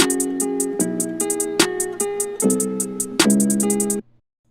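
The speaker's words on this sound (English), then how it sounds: "So that's the hi-hat. It's gonna sound like this." Trap beat hi-hat pattern: crisp, bright ticks in a quick steady rhythm with bursts of faster rolls, layered over sustained synth chords and low notes, clean and close, ending abruptly into silence.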